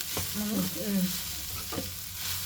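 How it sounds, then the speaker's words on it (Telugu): Cooked rice is stirred into a simmering mixture in a frying pan, soft scraping strokes of a spoon over a gentle, close sizzle. "సో ఇది మొత్తం కలుపుకుందామండి"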